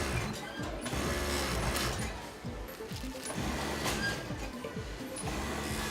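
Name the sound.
sewing machines in a thermal underwear factory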